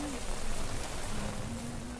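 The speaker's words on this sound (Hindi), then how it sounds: "और बहुत ज़्यादा बारिश हो रही है इस समय यहाँ पर।" Heavy monsoon rain pours at the Ganges riverside in Rishikesh, near the ghats, as a dense, steady hiss of drops on surfaces that continues unbroken throughout, with a faint tonal hum underneath.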